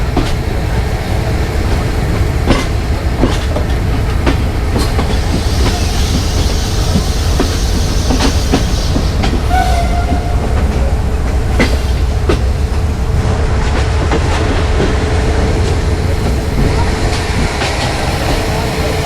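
Pakistan Railways train with locomotive 4563 rolling along the track, loud and close, steady wheel rumble with clickety-clack beats and brief squeals, and voices talking faintly beneath.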